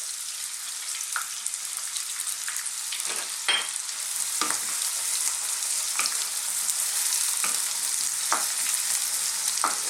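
Onions and a little garlic frying in sunflower oil in a pan for a vegetable chili, a steady close hiss of sizzling with occasional soft stirring scrapes, no voices.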